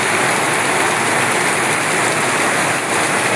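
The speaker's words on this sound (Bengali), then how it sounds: "প্রবল বর্ষণ ধারা চারিদিকে ভরপুর করে তুলেছে।" Heavy monsoon rain pours steadily in the Andamans, a dense, continuous wash of loud broadband hiss with no pauses and no voices.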